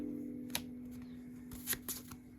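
Appmon trading cards, Gachmon and Navimon, set down and stacked on one another during a card game, giving a few soft, close slaps and papery flicks over a quiet background.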